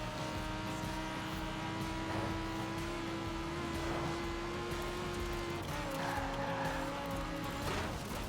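A car in Forza Horizon 4 spins out, a steady engine drone with a long tire-squeal tone that shifts pitch partway through, fairly faint and without talk.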